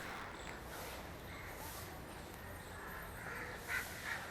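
Birds at Byculla zoo in Mumbai are heard faintly in the distance, with a few short caw-like calls rising over a steady outdoor background hum.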